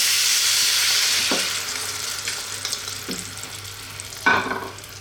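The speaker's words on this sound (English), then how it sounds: "Give that one little stir and then it goes." Pork spare ribs sizzle loudly in a pan after a sauce mixture is poured in, a dense frying hiss that eases off slightly, with a few scraping stir strokes and a sharp splash near the end.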